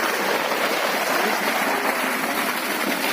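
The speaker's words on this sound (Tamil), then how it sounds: "இங்க பாருங்க தண்ணி எவ்வளவு தள்ளுதுன்னு மட்டும் பாருங்க" Water gushes steadily from the outlet of a 4 inch BLDC solar water pump at a farm, a loud, dense, unbroken rushing roar with no talking.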